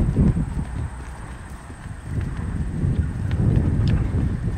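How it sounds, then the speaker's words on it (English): A horse cantering in slow, short bursts outdoors, its hoofbeats a steady muffled clip-clop under constant wind noise across the microphone. "Just slow little bursts of canter."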